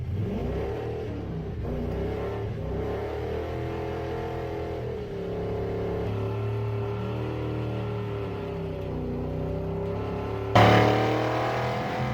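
A 1974 Ford F100 pickup with a T5 manual swap, engine idling and then pulling gently as the truck rolls off in first gear, a steady mid-range drone that swells slightly and ends in a sharp clunk.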